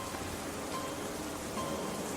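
Heavy rain pours steadily in a radio-drama scene, a dense, even hiss of falling water with no breaks, moderately quiet and heard alone.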